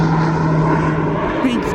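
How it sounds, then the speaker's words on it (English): A Beechcraft propeller aircraft approaches to land at East Midlands Airport, a steady loud engine drone with a constant tone under someone talking. "Beechcraft. He's coming in now."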